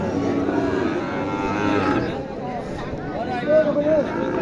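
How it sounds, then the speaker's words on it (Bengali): Cattle moo at a livestock market, a drawn-out low call rising near the end over a steady background of crowd murmur and voices talking nearby. "দুইটাই ভালো মানের গরু তবে এটা বড় একটা ছোট"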